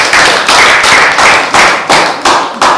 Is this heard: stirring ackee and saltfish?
no